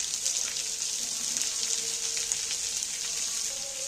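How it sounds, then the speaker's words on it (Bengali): Chopped onions frying in hot oil for a steamed egg dish, a steady, close bright sizzle that holds evenly throughout with no talk. "পেঁয়াজগুলোকে আমি একটু ভেজে নেব"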